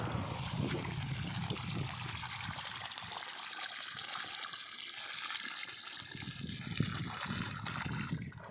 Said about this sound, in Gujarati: જો આ પાણી પાવાની કામગીરી ચાલુ છે